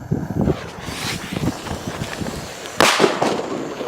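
A country rocket firework is lit outdoors, giving rough fizzing and crackling bursts over gusty wind noise, with a louder hissing surge near the end; no one speaks.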